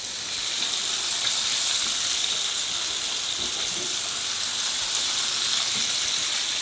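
Deer backstrap cube steak frying in hot oil, a steady, even sizzle and hiss close up that holds from start to finish with no talk over it.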